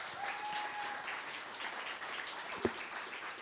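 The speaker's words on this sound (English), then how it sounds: "let's give them a round of applause" Steady audience applause after a talk on website conversion testing, a dense even patter of many hands at moderate loudness with one sharp louder clap standing out near the end.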